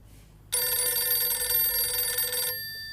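A telephone bell rings loudly and steadily for about two seconds in a quiet room, then cuts off, leaving a faint ringing tail.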